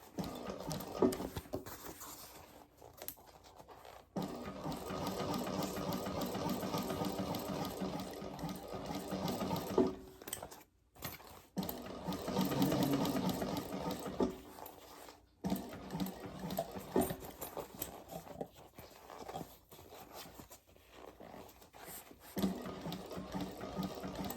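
A sewing machine stitches the gusset of a laptop bag, a steady close mechanical whirr in runs that stop and restart with brief pauses as the fabric is turned at corners.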